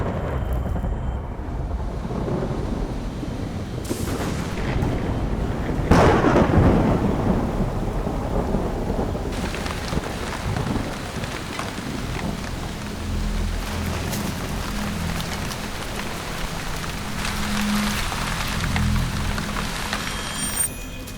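Heavy rain pours steadily while thunder rolls and rumbles loudly in the open, with a deep crack and long rumble early on and continuous downpour after.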